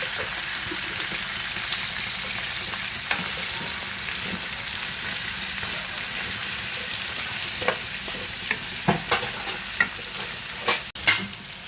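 Squash being stirred in a pan while cooking Filipino pakbet, a steady sizzling frying bed with scraping spoon strokes that grow more distinct and knocking toward the end, no voices.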